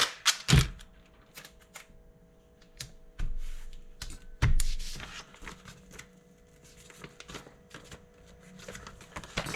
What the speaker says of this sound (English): Now these ones I do tape.